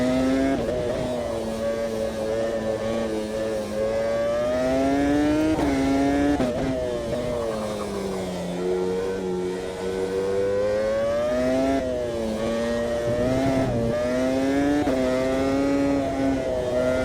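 Race car engine on a mountain circuit, a loud continuous drone rising and falling in pitch as it revs and shifts through corners, close and steady throughout without speech.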